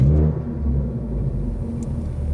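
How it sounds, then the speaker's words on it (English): Ford Focus ST engine revving up, a deep rumbling low drone that holds and rises slightly, close to the microphone with no talk. "So I'm gonna rev it up."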